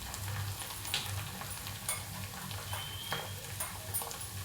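Masala for egg bhurji sizzles and fries steadily in a hot pan, with a spoon scraping and stirring through it now and then. The sound is close and quiet, with no talking.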